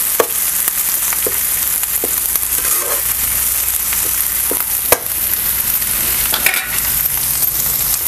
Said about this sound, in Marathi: तर आता आपण ह्यामध्ये घालूया बारीक चिरलेले टमॅटो